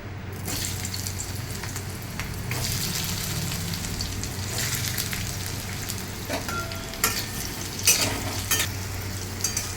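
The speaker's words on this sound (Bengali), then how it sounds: "এবার ওটাকে আমি হালকা করে একটু ভেজে নেব" Parboiled potato pieces fry lightly in hot oil in a pan with a pinch of turmeric and salt, giving a steady close sizzle throughout, with occasional louder clatters of stirring near the end.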